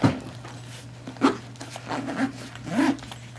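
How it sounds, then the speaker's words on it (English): A zipper is pulled shut on a new Data Crew Snack Break sling bag, with several short rasping strokes at close range against a steady low hum. "will zip the bag up though."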